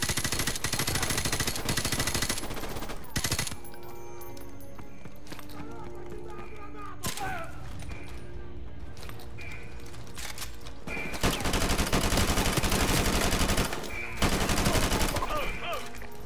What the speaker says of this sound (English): We're taking some fire up here at the vehicle depot.